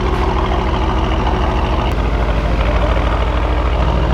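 An Aston Martin sports car engine rumbles loud and close as it pulls into a garage, a deep continuous drone with a slight shift in tone halfway through.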